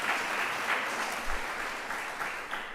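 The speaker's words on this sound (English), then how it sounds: "Let's give a special round of applause for Diana." An audience claps at a lecture, a steady wash of mid-level applause lasting a few seconds with no voices over it.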